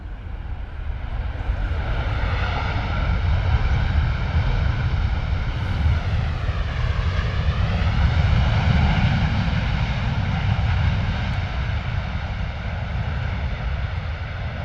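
An Emirates Boeing 777 jet airliner at London Stansted Airport, a continuous loud engine roar with a stack of tonal whine bands that sweep and bend partway through as the aircraft passes nearby.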